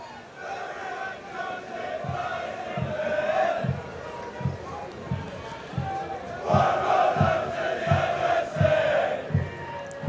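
Cardiff Met rugby supporters in the stands at a men's BUCS Super Rugby match against Swansea, a crowd roar and battle-cry chant with steady rhythmic beats carrying on throughout and swelling louder toward the end.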